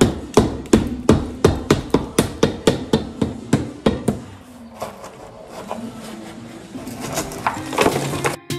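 Old lath and plaster knocked off an interior wall during a house renovation: a quick series of sharp, loud hammer-like blows and cracking, followed by rattling, crumbling debris falling, close up without speech.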